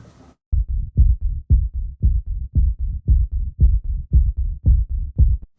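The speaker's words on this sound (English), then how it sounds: "it's a bass pulse that is filtered out to try and make it feel like a heartbeat" A filtered bass pulse thumps in a steady rhythm like a heartbeat, with about a dozen deep, close beats repeating evenly on their own after a short pause at the start.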